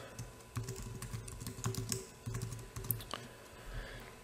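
A page title is being typed on a computer keyboard, with steady runs of close, crisp key clicks broken by a couple of short pauses.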